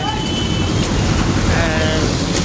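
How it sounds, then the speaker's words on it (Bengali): Steady, heavy rain falls on an evening street, a dense close wash of noise that continues without pause, with a faint engine hum and a voice talking underneath. "সারাদিনই কিন্তু বৃষ্টি হয়, কিন্তু তখন একটু বৃষ্টির মাত্রা বাড়ি গেছে"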